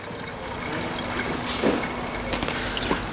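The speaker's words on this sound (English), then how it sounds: "We're just gonna be topping off all the fluids." Water pours and trickles steadily while topping off fluids under the hood of a 2014 Ford Mustang V6, a continuous close liquid splash with a faint brief gurgle midway and no talking.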